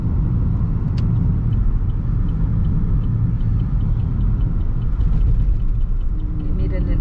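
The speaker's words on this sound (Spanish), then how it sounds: "Y miren el tráfico." Afternoon road traffic in Las Vegas, Nevada rumbles steadily nearby, with car engines and tire noise forming a loud continuous wash and a brief higher hiss or brake sound near the end.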